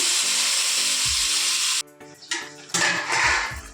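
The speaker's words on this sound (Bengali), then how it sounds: "মাংসটা দিয়ে দিচ্ছি।" Mutton pieces go into hot oil with bay leaf, cardamom, cinnamon and cloves and hiss loudly in a steady sizzle. A clatter follows, then a fresh burst of frying as the meat is stirred.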